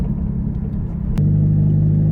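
A 2.4-liter four-cylinder American-made car engine runs nearby with a steady low rumble, shifting about halfway to a firmer, even drone with a sustained hum.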